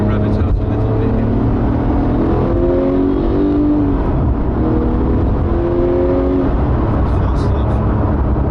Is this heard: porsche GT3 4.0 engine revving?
yes